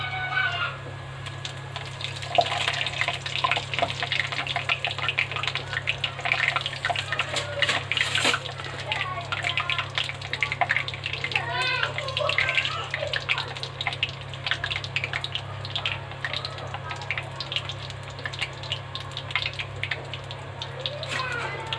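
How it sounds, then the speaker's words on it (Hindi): Cumin and black mustard seeds sizzle in hot mustard oil for an Indian bhindi aloo dish. The crackling hiss runs steady and close throughout, with scattered sharp pops over it. "पहले हम डालेंगे 1/2 चम्मच जीरा, 1/2 चम्मच काली सरसों जिसे हम राई भी बोलते हैं"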